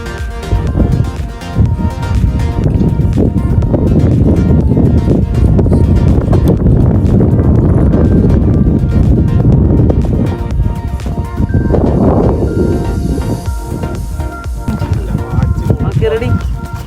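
Strong wind at a scenic hilltop viewpoint buffets the microphone with a constant low roar, while people talk throughout.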